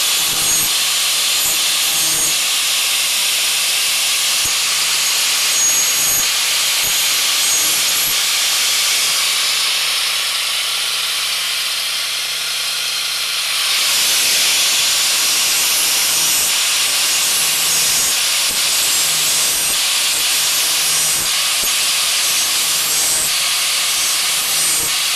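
Hand file sharpening the teeth of a band saw mill blade, heard as continuous harsh rasping strokes, loud and close, with a brief softer lull in the middle before the filing resumes.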